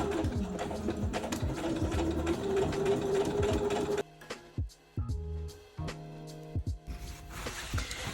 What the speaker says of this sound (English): let's sew this thing together